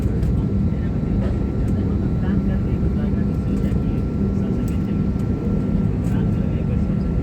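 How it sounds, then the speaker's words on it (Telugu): An airplane prepares for takeoff at an airport, its engines producing a steady loud roar with a faint tonal whine above it, heard continuously and close. "చూడటానికి విమానం ఎగరడానికి అయితే సిద్ధంగా ఉంది"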